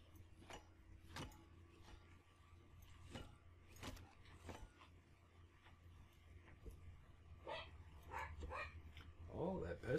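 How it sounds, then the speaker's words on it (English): A dog in the survival game Scrap Mechanic gives a string of short, repeated barks at a steady pace over a low constant hum, with some denser sound toward the end. "Oh, that pesky dog."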